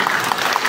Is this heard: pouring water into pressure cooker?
no